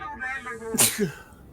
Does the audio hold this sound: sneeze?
yes